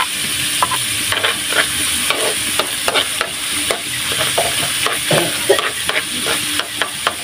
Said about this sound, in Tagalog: Magisa na po tayo.